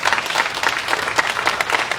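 A round of applause for about 200 youth given city summer jobs in Mt Vernon, a brief burst of clapping from a gathered crowd with a slightly uneven, pulsing texture.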